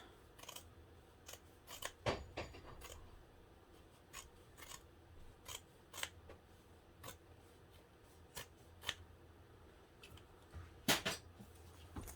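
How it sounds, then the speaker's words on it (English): Fabric scissors trimming a sewn seam allowance, a string of crisp snips at an uneven pace, some in quick pairs, close and clear against a quiet room. "I'm going to trim this seam allowance."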